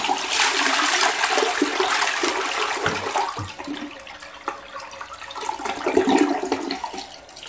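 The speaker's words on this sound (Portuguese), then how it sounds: "Agora eu vou dar descarga para vocês verem melhor." A toilet bowl, just cleaned of rust and water stains, flushes with a loud rushing gush of water that tapers into trickling and refilling, close up and with no talking.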